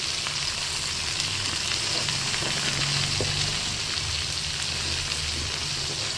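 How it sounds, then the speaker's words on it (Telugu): Chopped okra sizzles steadily in a hot pan as it is slowly stirred into a tempering, a dense continuous frying hiss with soft scraping under it and no talking. "ఇలా కలర్ చేంజ్ అయ్యాక ఇందులోకి మనం తరుక్కున్న బెండకాయని వేసేద్దామండి"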